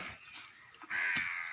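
A crow caws outdoors, two or three harsh calls with the last one longest and loudest, at moderate distance and alone without voices.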